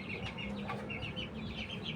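Backyard chickens clucking and calling steadily at close range after being let out of a homemade wooden coop on a sunny day, with continuous farmyard murmur and no talk.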